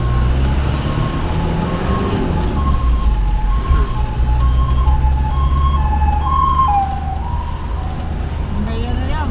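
An emergency vehicle siren in the town of Carmona sounds loud and close, its tone wavering and then shifting as the vehicle passes. Steady traffic rumble runs underneath throughout, with no speech.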